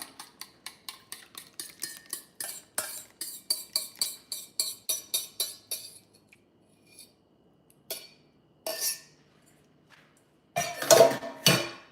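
Muffin batter for chocolate chip protein muffins being mixed in a bowl, a quick regular series of utensil taps and scrapes against the bowl, then a pause and a few louder knocks and clatters.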